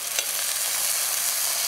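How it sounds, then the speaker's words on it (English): Loud, steady hiss and crackle of mahi mahi frying in a hot pan with tequila lime cream sauce, continuous and close, with no talking. "Hear that sizzle still?"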